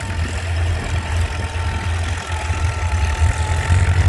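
Antique Farmall Super C tractor engine idling and putting along at plow day, a steady low rumbling chug that stays loud and close for the whole stretch with no one talking.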